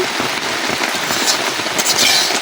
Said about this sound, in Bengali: আর দেখেন বাইরে বৃষ্টি হইতেছে।